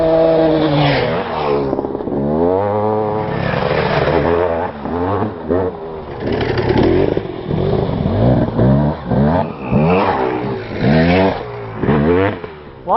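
A KTM 300 EXC two-stroke dirt bike engine revs repeatedly, its pitch sweeping up and down in loud, close bursts with rough mechanical clatter between, heard through wind-muffled recording and no speech.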